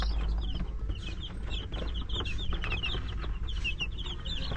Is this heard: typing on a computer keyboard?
no